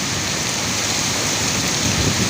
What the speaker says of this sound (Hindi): बहुत तेज़ हो रही है बारिश, बहुत तेज़।